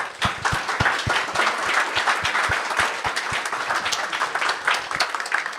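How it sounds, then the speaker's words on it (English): Applause at a tech conference as a speaker duo is welcomed on stage, with many people clapping together and a few sharp, distinct claps standing out close by, sustained throughout. "let's give them a big round of applause"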